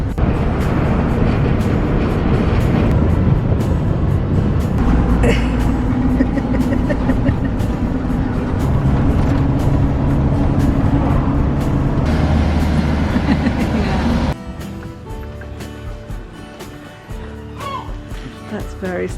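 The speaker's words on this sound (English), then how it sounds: "You do well driving the van through these lanes" A camper van drives through narrow Cornish country lanes, its engine and road rumble loud and steady from inside the cab and easing off near the end, with voices talking over it.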